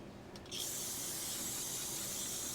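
Carb cleaner sprays in one steady hissing burst onto rusty parts of a 1975 Honda CB500T cafe racer under restoration, starting after a brief faint rustle and continuing close and loud to the end.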